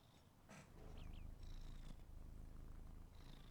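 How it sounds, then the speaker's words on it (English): A cat purrs steadily and quite close in a continuous low rumble, with a couple of faint high chirps and brief noises over it. No one speaks. "Listen to that purr."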